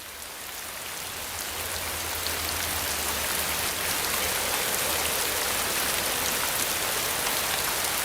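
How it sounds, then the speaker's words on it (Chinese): Heavy rain falls in a dense, even hiss that swells slightly at first, then holds steady and loud with no voices over it. "大雨数日，至今未停"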